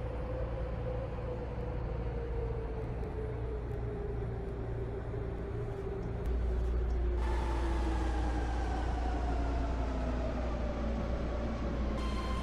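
A Roblox Ro-Scale BART train, a 10-car, 2-door Pittsburg/Bay Point service, rolls steadily with a loud, continuous low rumble and rising whine. The rumble deepens partway through as the train picks up speed.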